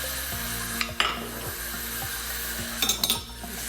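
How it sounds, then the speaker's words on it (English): Onion and garlic fry in rapeseed oil in a pan with a constant close sizzle. A utensil scrapes the pan in a steady stirring rhythm, with a few sharper clinks. "stir it."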